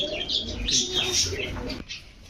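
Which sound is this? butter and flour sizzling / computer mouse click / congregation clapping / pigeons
pigeons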